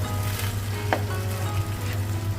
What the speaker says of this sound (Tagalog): Lulutuin muna natin yung mais bago natin ihalo yung mushroom at saka yung malunggay.